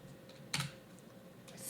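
Quiet computer keyboard keys pressed indoors, a few soft clicks with one louder double tap near the middle, typed at an irregular pace.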